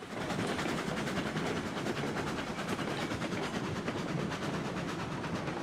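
A freight train in the Railroads Online game rolls in reverse and slows toward a stop, a dense steady rumble with rapid clattering wheel noise throughout.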